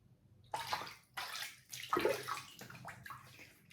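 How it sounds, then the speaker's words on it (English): Water splashed onto the face to wet it before a shave with a single-edge OneBlade razor: several close, sloshing bursts with brief pauses between them. "All right, let's wet the face and get started."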